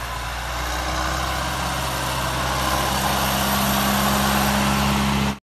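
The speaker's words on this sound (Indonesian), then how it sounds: "Ini traktor teman-teman." Engine rumble, presumably from a toy tractor, drones steadily for about five seconds at fairly high level before cutting off abruptly at the end.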